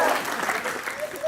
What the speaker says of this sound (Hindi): ताली दे ताली।